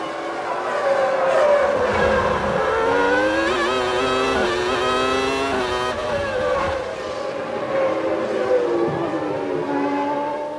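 Formula 1 cars race in the 1997 Luxembourg Grand Prix, their high-pitched engines whining loudly and sweeping up and down in pitch as they accelerate and pass, overlapping continuously for about ten seconds.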